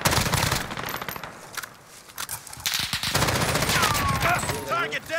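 Dense, rapid automatic gunfire in Call of Duty Warzone, loud and close with several overlapping bursts and scattered single shots, and a voice talking over part of it.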